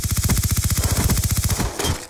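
Automatic gunfire in Call of Duty: Black Ops 2, Search and Destroy mode on the Hijacked map: a loud, close burst of rapid, evenly spaced shots lasting about a second and a half, then a brief final shot.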